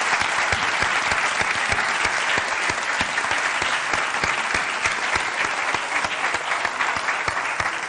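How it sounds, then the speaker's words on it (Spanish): An audience at a research presentation gives the authors a long, loud round of applause, dense and steady throughout with sharp individual claps standing out. "darle un aplauso enorme de reconocimiento a Rubén y a Lois"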